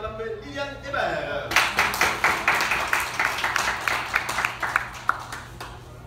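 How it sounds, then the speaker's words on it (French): At a karate school white-to-yellow belt graduation, a crowd claps. The applause starts after a brief voice and continues as fairly loud, steady, scattered clapping that runs to the end. "Ceinture blanche, on applaudit Mélodie Bill."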